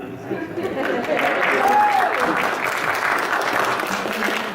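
An audience claps after an original song is performed, a dense continuous wave of applause building slightly and holding steady, with a voice talking faintly over it.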